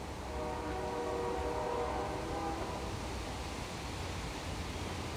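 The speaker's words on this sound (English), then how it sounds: "now y'all can hear my daily train coming through" A daily train rolls past nearby with a steady broadband rumble, and a faint horn tone briefly sounds above the noise.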